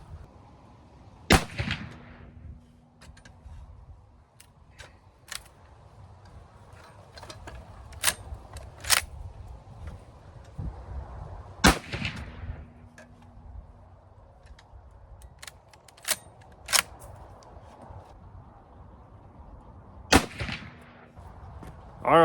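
Winchester rifle firing at an outdoor range: a few sharp, well-separated shots, with one near the start and one mid-clip standing out, plus fainter reports and mechanical clicks in between, over quiet background.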